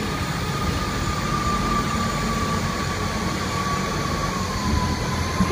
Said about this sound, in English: Departing up there is the Great Western Railway service to not London Waterloo, that's where this one's going.